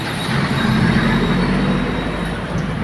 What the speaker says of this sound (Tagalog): malaking sasakyan at uh, napakahaba na container van